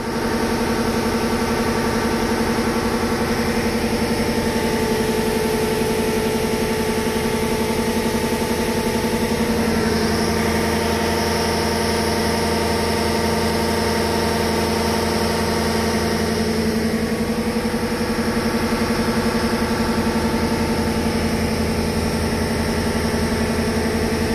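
A Toyota Hilux with a 1KZ diesel engine runs at steady state on a dyno, giving a loud, continuous drone with a constant tone and no voices.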